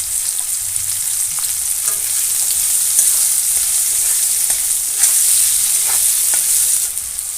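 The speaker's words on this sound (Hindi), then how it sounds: "प्याज को 2 मिनिट पई गोल्डन करी भाजी नेबा" Chopped onion frying in oil with cumin seeds and slit green chilli makes a loud, continuous crackling sizzle close up. Stirring adds occasional scrapes, and nobody speaks over it.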